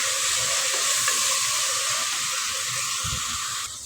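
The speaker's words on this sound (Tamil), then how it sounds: "புதினா வதங்கி வந்துடுச்சு." Mint leaves sautéing in hot oil in a pan for fish meal maker biryani, a loud, steady sizzle and hiss close up, with occasional soft stirring scrapes and no talking.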